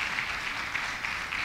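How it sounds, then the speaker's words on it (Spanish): A church congregation applauds during a Spanish-language service, a steady, even wash of many hands clapping at moderate distance, filling the short moment without a break. "Dele un aplauso al Señor esta mañana."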